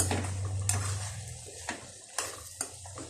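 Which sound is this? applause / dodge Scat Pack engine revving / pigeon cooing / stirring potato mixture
stirring potato mixture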